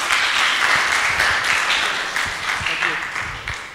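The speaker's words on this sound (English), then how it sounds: "Please give her an applause." An audience at a young entrepreneurs' seminar applauds a speaker, a steady wash of clapping heard at moderate volume with talk mixed in, fading slightly toward the end.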